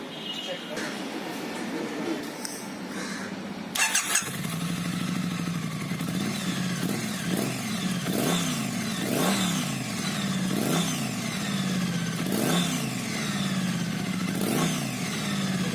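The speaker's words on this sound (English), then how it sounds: "So you just heard the exhaust note" A 2019 Triumph Street Twin motorcycle revs repeatedly, its exhaust note rising and falling in a regular series of blips over a running engine. Someone speaks over part of it.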